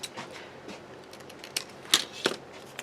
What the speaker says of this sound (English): So I'll just give that a snip.